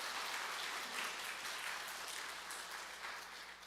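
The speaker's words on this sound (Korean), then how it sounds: "찬양대회에서 한 번 더 박수로 좀 격려해 주시면 좋겠습니다." A church congregation applauds the choir in a dense, sustained burst of clapping that holds steady and tapers only slightly toward the end.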